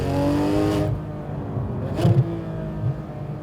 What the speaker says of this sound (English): This is the best sounding car I have ever driven.